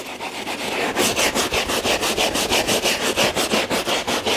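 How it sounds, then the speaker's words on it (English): A brush scrubs a dirty car floor mat in fast, even back-and-forth strokes, a steady rhythmic rasping that is close and loud throughout. "I come back in and I scrub once again"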